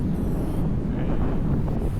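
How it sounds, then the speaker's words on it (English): Wind buffets an outdoor microphone in a steady low roar, with a breezy rush that lasts the whole time and no talk on top. "Hopefully you can hear me over the wind. It's pretty breezy."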